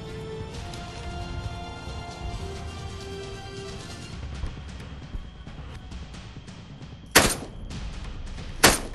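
Rifle shots ring out in the ArmA 3 video game, two sharp loud cracks near the end after a stretch of ambient rumble and faint distant noises.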